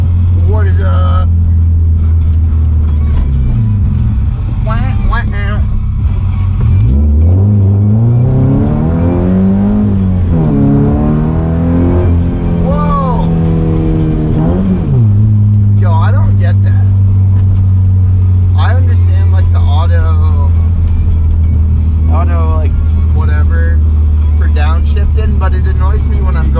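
A Subaru BRZ driving in the rain holds a loud, constant engine drone that swells into rising and falling revs mid-drive, while someone talks over it nearly the whole time.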